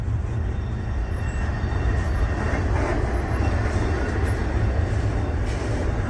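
A heavy freight train rumbles steadily and continuously nearby, deep low-end roar with faint metallic squeals and clatter riding on top, no voices.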